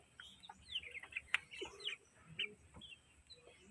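Newly hatching white Kelso chicken chicks peep in an incubator, a faint scatter of high, thin chirps in quick irregular bursts.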